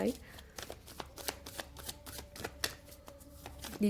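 Tarot cards being shuffled and drawn: a steady run of crisp, rapid riffling flicks and slaps up close, with a faint voice in the background.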